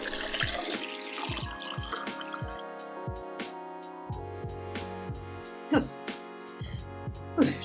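Water runs from a kitchen tap into a sink at close range, a steady flowing stream with a few sharper splashes and knocks, with talk in the background.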